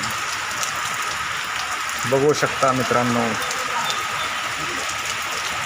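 Heavy monsoon rain in Palus, Maharashtra pours as a steady dense hiss throughout, while someone speaks briefly in the middle over the downpour.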